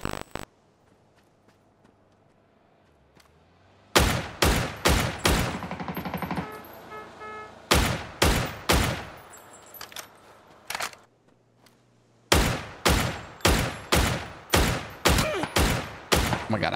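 Dragunov sniper rifle fire in PUBG: loud, sharp shots in rapid bursts of about four to seven, separated by short quiet gaps, with no talking.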